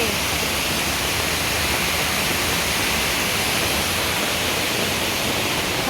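Heavy monsoon rain with water gushing in like a stream let loose, a dense, unbroken roaring hiss that stays steady and loud throughout, with no voices on top.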